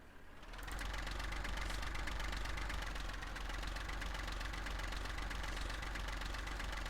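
A tractor engine in the farming game Farming Simulator 15 runs steadily and loudly, with a constant low rumble and a rattling mechanical hum. It starts up in the first second and holds with no talk over it.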